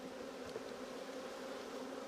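Honey bees drone around beehives in a steady, faint, continuous buzz with a low hum, no voices present.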